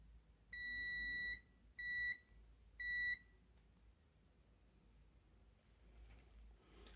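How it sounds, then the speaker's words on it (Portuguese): Three short electronic beeps from a multimeter continuity test across a tactile button on a Brastemp appliance interface board, clear steady tones, the first lasting about a second and the next two shorter, then quiet room noise. "se eu colocar na diagonal e colocar do outro lado do botão, tem que dar o bip"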